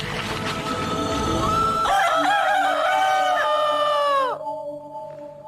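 A rooster crows loudly and close by, one long call that rises and then trails off, followed by a short quieter tone.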